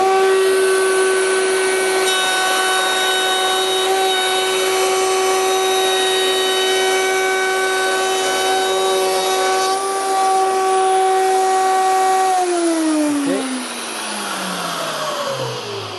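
A wood router cuts a centered groove in a workpiece, a loud steady high-pitched whine holding for about twelve seconds before the motor winds down and fades.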